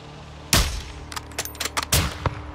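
Sniper rifle fire in Call of Duty Modern Warfare II's "Ghillie suits" campaign mission: a loud, close single shot with a long rumbling tail, followed by scattered smaller clicks and impacts and a second heavy shot, with no talking.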